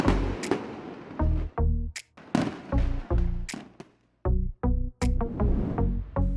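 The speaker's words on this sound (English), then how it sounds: "Fred and Jerry lit the fireworks with their matches" Fireworks set off in a 4th of July scene, a rapid string of sharp, loud bangs and pops in uneven bursts with brief gaps, close and echoing, with no talking.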